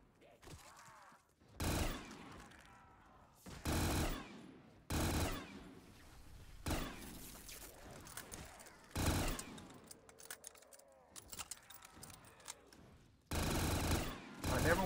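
Gun firing in Black Ops 3 custom zombies: repeated loud bursts of automatic fire, each lasting about half a second, spaced every couple of seconds, with someone talking quietly between volleys.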